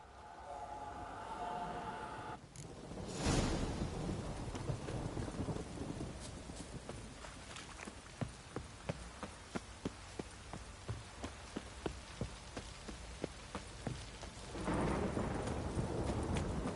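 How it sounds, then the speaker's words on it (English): Heavy downpour in the Witcher 3: Wild Hunt game world, a steady loud rain hiss with a sharp thunderclap early on, followed by a run of crackling, rhythmic impacts and a swelling rumble near the end. "This downpour's a bastard, it is."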